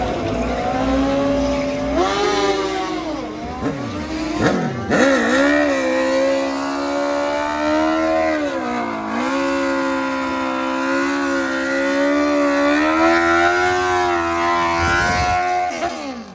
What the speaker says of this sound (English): Get ready for a burnout.